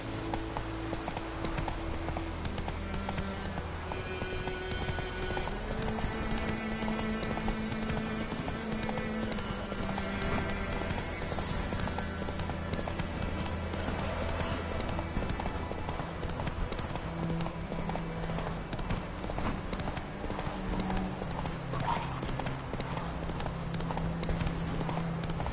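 Roach, the horse in The Witcher 3, gallops in a long, steady run of rhythmic hoofbeats over layered game music, with no pause from start to finish.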